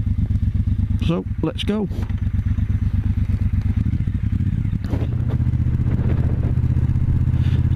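A Triumph Bobber motorcycle ridden in sport mode on a road in North Wales makes a steady, loud engine thrum close to the rider that rises slightly in pitch. A rider speaks briefly over it.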